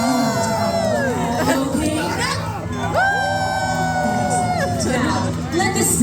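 A loud crowd cheers and whoops at a Halloween Horror Nights show, with children shouting and babbling voices mixed into a continuous, dense roar over music-like tones.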